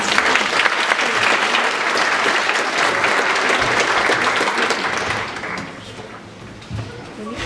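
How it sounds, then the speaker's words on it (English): A large audience at an environmental education awards event gives sustained, loud applause that stays full and even for several seconds before thinning out near the end. "So let's give all of you and those around you a huge round of applause."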